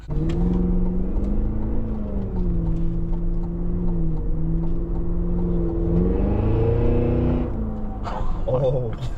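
A 2026 Cadillac Escalade-V engine heard from inside on a drive, a deep loud rumbling drone whose pitch climbs and settles, swelling near the end into sharp crackling exhaust burbles.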